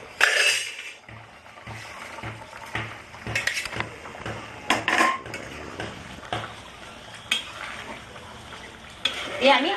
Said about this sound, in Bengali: আমি এবার কোপ্তাগুলো এতে দিয়ে দেবো